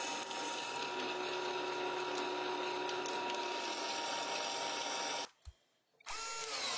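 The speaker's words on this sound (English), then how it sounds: "It's easier to drill the holes before the steel is actually bent." A power drill whines steadily as it bores holes into flat steel, running continuously before a brief stop and then starting up again.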